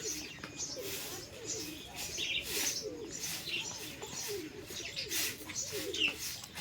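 Grey pigeons coo softly and repeatedly at close range, low rolling calls recurring every second or so, with faint chirps and rustling around them.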